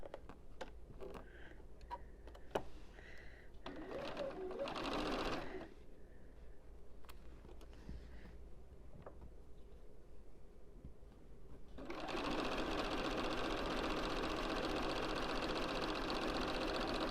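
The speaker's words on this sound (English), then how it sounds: "And you'll sew another end here, and that's for the end units, another half square triangle." A sewing machine stitches quilt pieces for an autumn postcard quilt, starting with short bursts of running, then settling into a steady, fast, continuous whirring hum close up.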